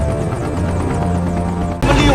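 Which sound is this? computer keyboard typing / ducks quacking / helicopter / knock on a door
helicopter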